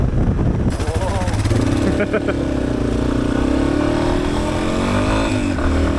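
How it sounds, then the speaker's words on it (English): A Yamaha XT250 dual sport motorcycle revs hard while gaining highway speed, its engine note rising in pitch under steady wind rush, with a rider talking over it. "I'm having to rev it a lot more to get up to highway speed."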